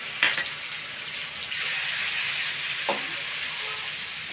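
Ground tomato paste hitting hot oil in a vegetarian kofta curry, a sharp burst of sizzling followed by a steady close hiss with a couple of soft spoon scrapes.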